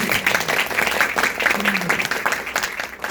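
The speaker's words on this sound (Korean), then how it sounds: "박수 한번 부탁드리겠습니다" Applause rises from the audience at a Korean university executive-course entrance ceremony, a dense, steady patter of many hands that runs through the whole stretch with a brief murmur of voices mixed in.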